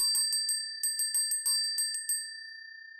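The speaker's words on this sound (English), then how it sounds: "Ring that bell." A small bell rings in a quick series of bright dings, some closely spaced, leaving a sustained ringing tone that fades at the end.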